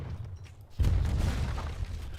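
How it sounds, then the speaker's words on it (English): A cannon blast blows a hole in a blockhouse in the Age of Empires III video game, landing as one loud, low boom that follows a quieter stretch and rumbles on. "blowing a hole in that blockhouse."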